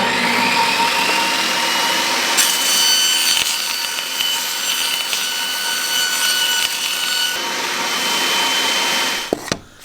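Power tool trimming a small section off a wooden kitchen piece during a school bus conversion, a loud continuous whine that holds steady for about nine seconds before cutting off.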